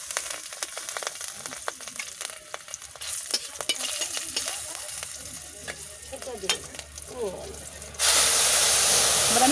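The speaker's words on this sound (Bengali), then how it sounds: "আর 2টো কাঁচা লঙ্কা ফোড়নে দিয়ে দিলাম" Two green chillies crackle in hot mustard-oil tempering with five-spice seeds for a tamarind shrimp sour dish, a steady close sizzle with scattered pops that suddenly swells into a louder, broader hiss near the end.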